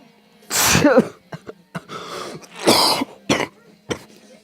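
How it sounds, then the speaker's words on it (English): A person coughs in harsh, close bursts: a strong cough, several smaller throat-clearing hacks, then another loud cough and a final short one, over a faint steady hum. "I hate coughing. I really hate coughing."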